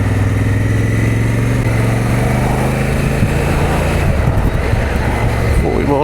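Steady engine drone from a 2024 Honda Africa Twin motorcycle while riding at about 40 mph, a constant low hum with wind noise that shifts slightly toward the end.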